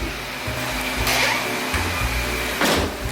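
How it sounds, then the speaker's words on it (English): A vacuum cleaner whirs steadily inside the stripped interior of an EF Civic Si, close and loud, with its pitch shifting as the nozzle moves and a few brief sucking bursts. "I'm going to get in here with a vacuum cleaner and clean all this"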